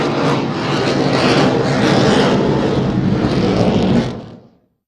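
A military jet flying a slow-speed handling display at the Paris Airshow gives a loud, broad, continuous engine roar that holds steady and then cuts off abruptly near the end.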